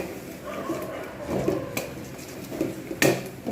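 Fish pieces being stirred and fried with salt in a pan for a Bengali doi pona curry, with irregular scraping and clinking of a spoon against the pan, moderately loud with a sharper knock near the end.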